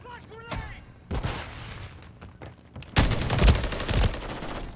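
Video game gunfire crackles in several bursts, loud near the start and heavier and denser toward the end, with players talking over it.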